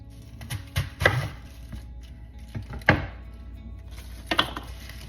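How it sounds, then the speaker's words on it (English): A knife chopping cabbage on a cutting board, a few separate firm thunks spaced a second or two apart, close and clear with no voices. "then I just cut it into 3 long ways, and then I'm going to cut it into 3s this way."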